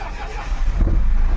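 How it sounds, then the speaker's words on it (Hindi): A Tata Ultra truck diesel engine, in neutral, cranks and fires up in a short, loud, close burst with a low rumbling turnover settling into a running growl. "वाहे गाड़ी होगी स्टार्ट।"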